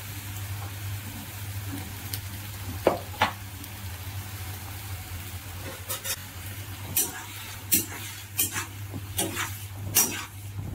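Food fries in a pan with turmeric and salt for a tomato breakfast dish, giving a soft continuous sizzle under a low hum, with occasional sharp clicks and scrapes as it is turned over.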